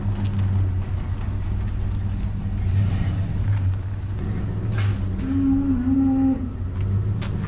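A cow at a farm gives a drawn-out low moo partway through, over a constant loud rumble of a nearby running vehicle engine.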